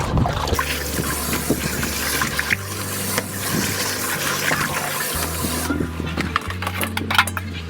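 Catfish being washed by hand in running water, a continuous loud gushing and splashing that fills the scene, with some low steady hum underneath.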